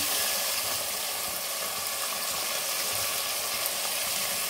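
Chopped onions fry in hot oil for a mutton curry, a steady dense sizzle and crackle holding even and close throughout with no talking.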